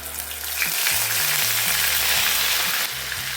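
Loud, steady sizzling of onion paste frying in a pan, close up, with faint low rhythmic hum underneath and no talking.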